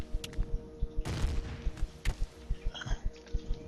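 Gun turret firing in the space survival game Empyrion: a burst of loud impacts near the start, followed by a steady run of rhythmic thumping shots that repeats through to the end.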